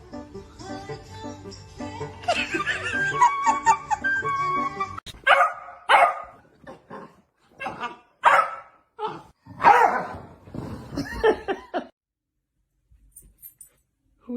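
Dogs bark in a burst of loud, close, sharp yaps, with some whimpering and other household noise underneath, then a brief pause before a final bark.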